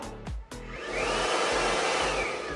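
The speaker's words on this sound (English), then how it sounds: "It is literally a computer in a blow dryer." A Martino Freestyle Systems Turbopower hair dryer, with its switching system hidden in the ceiling, clicks a few times and then settles into a steady, loud blowing whoosh that runs on without talk.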